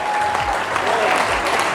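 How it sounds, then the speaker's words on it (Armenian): Wedding guests applauding the newlyweds at an Armenian celebration, loud, dense clapping from a crowd sustained throughout, with faint voices underneath. "դուք էլ այդ պահը բաց չեք թողնում ու նորից ծափեր եք տալիս բարձր հավեսով"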